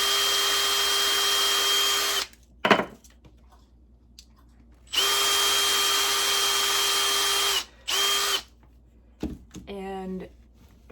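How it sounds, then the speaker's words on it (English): A power drill whines in two steady bursts, drilling a tiny hole in a DIY holiday ornament, stopping and starting, with brief knocks between and a voice speaking afterward. "I just drill a tiny little hole."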